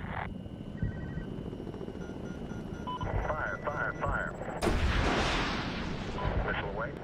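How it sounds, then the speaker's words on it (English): A missile launched at a mortar crew in the video game Medal of Honor, a heavy rushing boom that erupts partway through, set against a low rumbling battle backdrop and radio voices talking. "Fire. Missile away."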